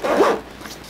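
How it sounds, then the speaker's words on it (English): A waterproof zipper on an e-scooter bag compartment, a single quick, close zip lasting under a second. "And it does have a waterproof zipper on it"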